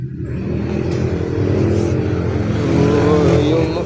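A Yamaha YTX125 motorcycle engine runs close by at a steady idle, a rough low thrum that holds for several seconds, while someone talks over it.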